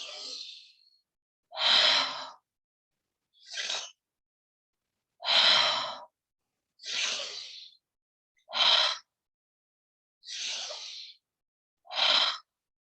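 Slow, deliberate breaths in a relaxation exercise: eight separate audible inhales and exhales, each about a second long, spaced by silent pauses, close and clear with no talking.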